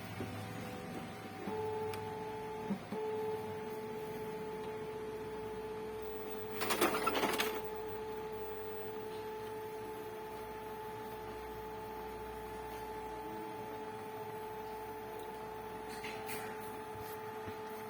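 An Epson L565 inkjet printer running a color photocopy hums steadily with a continuous tonal whine, with a brief louder mechanical rattle of the carriage and paper feed partway through.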